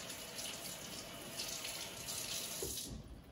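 Tap water runs steadily into a sink while hands are rinsed, a soft, continuous splashing hiss close by that eases off near the end.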